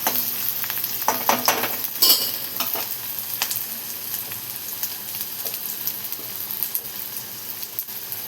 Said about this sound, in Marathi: नंतर असं मस्त आपण परतून घेऊया कांदा.